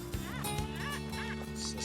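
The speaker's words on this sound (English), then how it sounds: "Notice how it really squeaks, the detector?" A metal detector swept over a small Mundrabilla meteorite in the Australian outback gives four or five loud, warbling squeaks in a quick rhythm over a steady electronic hum, with no one talking.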